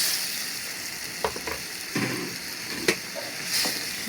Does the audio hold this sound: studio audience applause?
no